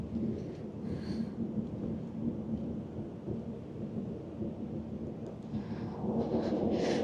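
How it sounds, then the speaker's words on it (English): Breezy wind blows outdoors in Morocco, making a constant low rumbling buffet that rises slightly toward the end. "Oh, it's breezy."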